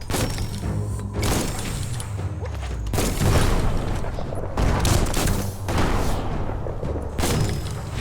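Bomb lobber explosions in Biomutant thump and boom repeatedly at irregular intervals, loud and close, with mechanical clatter between blasts.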